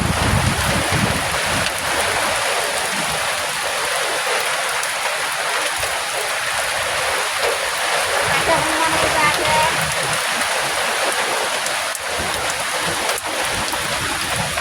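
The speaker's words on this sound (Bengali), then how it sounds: "কত ঝড় হচ্ছে দেখুন" A storm of wind and rain sweeps through mango trees, a loud unbroken roar of rushing air and falling water with a voice talking faintly underneath.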